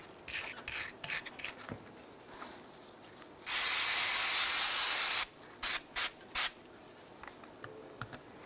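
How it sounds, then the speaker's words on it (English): An aerosol solvent sprays in a long close hiss of nearly two seconds to clean the brake rotors on a 2001-2007 Ford Escape, between shorter scrubbing bursts and a few quick sprays. "Be sure to clean your brake rotors with a solvent"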